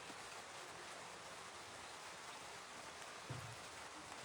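Light rain falls with a soft, even hiss that holds steady throughout, faint and unbroken, with a small low thump near the end.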